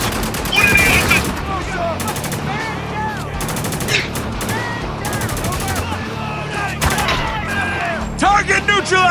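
Gunfire in the war shooter Spec Ops: The Line, loud rapid bursts of automatic fire with sharp single shots, close and continuous, mixed with shouted voices between volleys.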